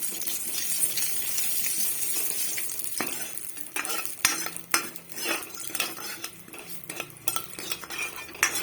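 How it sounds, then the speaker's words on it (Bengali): Vegetables fry in oil for a masoor dal with ash gourd, a steady sizzle in a pan with frequent metallic clinks and scrapes of a spoon stirring against the pot. "তেলের মধ্যে ভেজে নেব।"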